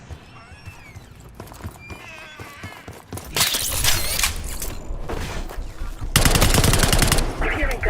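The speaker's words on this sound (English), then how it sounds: "You hearing gunfire?" Bursts of rapid gunfire in the Call of Duty Black Ops 6 video game, loud clattering volleys in several waves over scattered game noise and faint voices.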